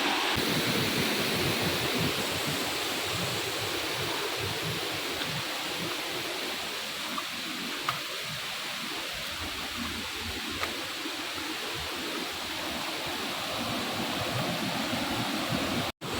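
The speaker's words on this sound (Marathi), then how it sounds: "हा छोटा धबधबा आहे" A small waterfall rushes steadily and continuously, a dense, close hiss of falling water that stays even in loudness for the whole stretch with no talking.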